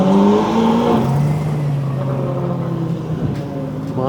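At an Osaka Kanjo street racing meet, a car revs and accelerates away, its engine note climbing through rising tones, loud and close before easing as it pulls off.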